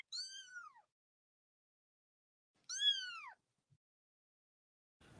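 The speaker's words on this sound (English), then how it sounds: "Silly cats." Two separate cat meows, each with a rising-then-falling arc, spaced a couple of seconds apart and alone in a quiet room, followed by a faint short rustle.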